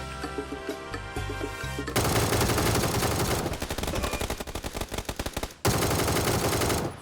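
Rapid automatic gunfire in PUBG, with dense bursts of machine-gun shots that follow a short musical or quieter lead-in, then continue loud and close, with a brief pause near the end before firing resumes.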